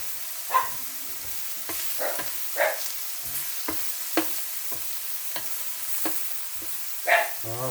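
Onions and peppers sizzle in an uncovered pan over lowered heat for a Philly steak dish, a soft steady fry punctuated by sharp spatula clicks and scrapes at irregular intervals.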